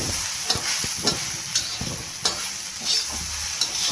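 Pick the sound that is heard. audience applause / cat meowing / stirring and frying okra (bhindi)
stirring and frying okra (bhindi)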